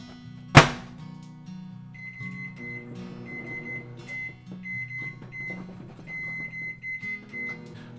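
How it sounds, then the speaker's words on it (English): A microwave oven melts black plastic for pouring a fishing lure, opening with a sharp door thunk, then a steady low hum with intermittent high electronic tones repeating through the run. "Alright, black in the microwave."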